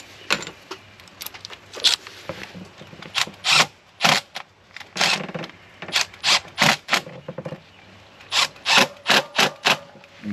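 A socket ratchet tightens the intake on a 1997-2004 Ford F-150, giving a long string of close, sharp clicking bursts in irregular short runs with brief pauses between them.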